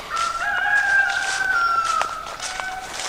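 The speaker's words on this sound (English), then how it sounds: "rooster crowing." A rooster lets out a long, clear crow lasting a few seconds, fairly close and loud, with light outdoor ambience behind it.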